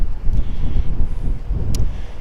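Strong wind buffets the microphone outdoors while DJI Mini drones fly, producing a steady, loud low rumble with gusting swells and no speech.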